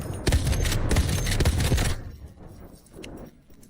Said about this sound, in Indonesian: Menembak dan membidik.